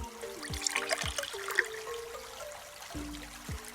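In the Dinosaur Train game, an egg pours water to fill a hole: a light trickling, dribbling stream with small splashes over a sequence of short game chime tones and bloops, moderately quiet throughout.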